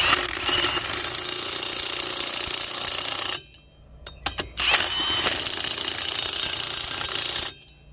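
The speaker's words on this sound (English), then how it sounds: "you can't turn it anymore by hand or with the impact that's not on overload" A loud pneumatic-style impact wrench hammering lug nuts onto an Airstream trailer wheel, running in two long sustained bursts separated by a brief pause with faint clicks, then cutting off.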